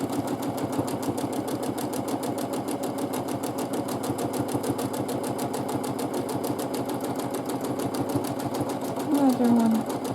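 A sewing machine free-motion quilting swirls runs as a fast, steady mechanical needle rhythm, close and continuous, while someone talks over it.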